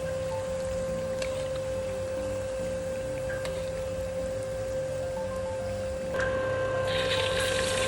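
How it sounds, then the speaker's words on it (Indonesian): Tempe frying in hot oil gives off a steady, rain-like crackling sizzle at low level, with a faint constant hum underneath and no talking. "saya goreng tempe sampai kuning keemasan"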